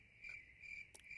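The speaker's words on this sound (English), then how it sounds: "Crickets." A cricket chirps in short repeated trills, steady and fairly close, with no one talking.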